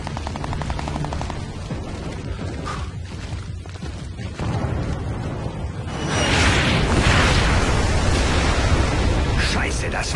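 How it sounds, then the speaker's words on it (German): Katyusha rocket explosions in the stealth action game Splinter Cell Blacklist: a dense, noisy battle bed that swells into loud, rumbling blasts in the second half. "Klang nach Katjuschas."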